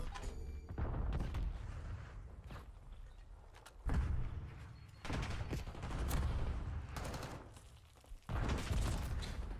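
Bursts of automatic gunfire in a Call of Duty Hardpoint match, heard in several separate volleys with quieter gaps between them, fairly faint overall and with occasional footsteps.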